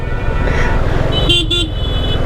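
A car horn gives two short, loud toots while squeezing through a narrow gap between two buses in city traffic, over a steady close engine rumble.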